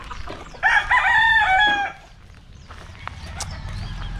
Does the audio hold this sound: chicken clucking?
yes